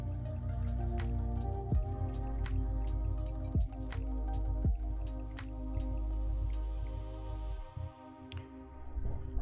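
Rain falls outside, heard from indoors as a steady run of scattered drips and ticks, some sharper and closer, over a constant low hum.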